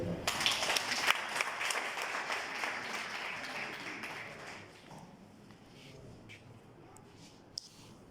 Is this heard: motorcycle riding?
no